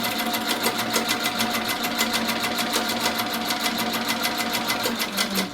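A sewing machine doing free-motion quilting runs in a fast, steady chatter of stitches, loud and close, with an even mechanical whir and no pauses. No one speaks.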